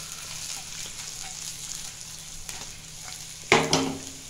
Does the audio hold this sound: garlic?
yes